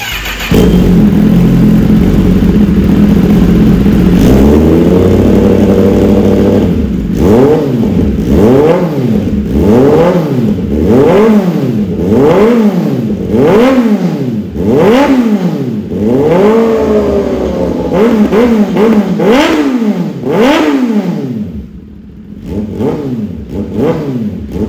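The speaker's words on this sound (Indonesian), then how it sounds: "Dengerin suara knalpot. Ini sekarang berarti pakai ProRace." A 2022 Kawasaki ZX-10RR superbike fitted with a ProRace exhaust, already warmed up, revs loudly and up close in a rapid string of throttle blips, each rising and falling sharply over a steady idle, with no talking.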